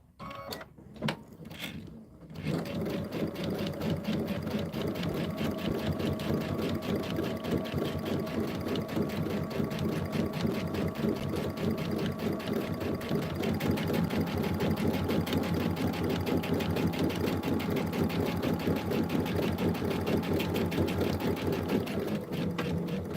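A home sewing machine runs steadily at close range, stitching a quilt-as-you-go block of June Tailor's Casablanca pattern, with a continuous even mechanical whir after a few brief starts.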